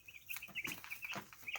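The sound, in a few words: young chicks peeping and clucking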